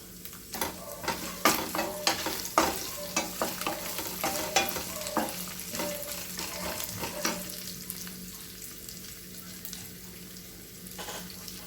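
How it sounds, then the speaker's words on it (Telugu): Cumin seeds and curry leaves fry in a pan, a busy close sizzle with repeated clicks and scrapes of stirring early on that settle into softer frying toward the end. "కొంచెం దోరగా వేగితే సరిపోతుందండి"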